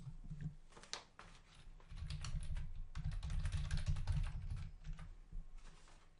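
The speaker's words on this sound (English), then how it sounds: "type the memo here" A memo is typed on a computer keyboard in fast, irregular bursts of close clicking keystrokes, with a brief pause early on before a denser run of typing.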